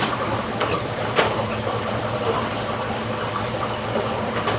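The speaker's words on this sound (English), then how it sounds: "I'll plug it in for you guys so you can see just how much water flow it's putting out" A Rossmont Mover MX4100 aquarium pump drives water in a steady, broadband rushing wash, close and continuous with a couple of brief splashes.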